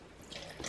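Water is poured into a bowl for grated potato dumpling dough. It is a short, soft splash and trickle, close and fairly quiet, with no voices.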